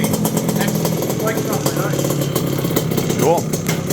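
A classic Suzuki RM 125 two-stroke motorcycle, freshly rebuilt in a shop, runs steadily at close range with a buzzy idle throughout, while people talk over it.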